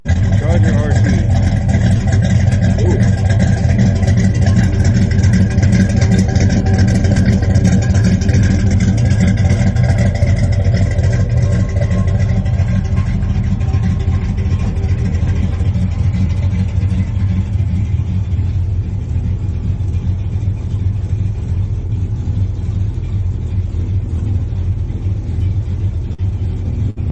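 A Dodge Charger R/T Mopar muscle car engine runs at a steady, loud, deep rumble for the whole stretch, revving only slightly and without any sharp bursts, with talk mixed in.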